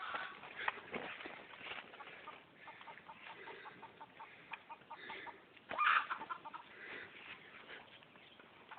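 Chicken clucking amid a scuffle as a dog chases it down, with busy scratchy rustling and a sharper burst of squawking midway, fairly faint and without talk.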